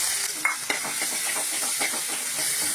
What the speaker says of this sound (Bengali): তেল বেশি দিয়ে মশমশো করেই ভাজতে হবে